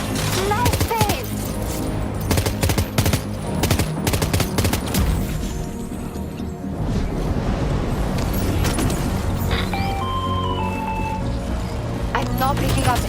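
Video game gunfire from Death Stranding 2: On the Beach on a PS5 Pro, in sustained loud bursts and rapid volleys mixed with engine rumble and game sounds, with voices talking over it.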